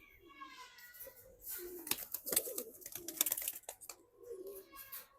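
A pigeon coos softly in a loft, its low throaty calls mixed with faint rustling and scuffling close by.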